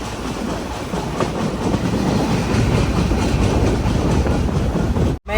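A Goa Express train running on the Konkan Railway main line toward Mumbai, a loud, steady rumble with rhythmic clickety-clack of wheels over rail joints, continuous and close, cutting off abruptly at the end.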